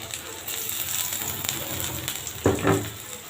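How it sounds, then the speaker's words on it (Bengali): Onion fries in oil in a pan for a fish-head and potato curry, giving a soft, continuous sizzle with a brief louder crackle near the end and no voice present. "এখন পেঁয়াজটা একটু বেজে নেব"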